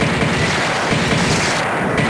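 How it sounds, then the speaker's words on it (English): Dense, continuous gunfire and blasts from the Alien Trilogy video game, a loud unbroken wall of shots with no pauses and no voices. "Shooting a lot of bullets to shoot two little guys."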